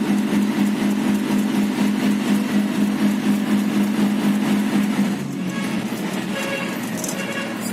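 A 50 kVA diesel generator set with ATS runs steadily nearby with a droning low hum, then changes tone and drops in level around five seconds as it begins to wind down.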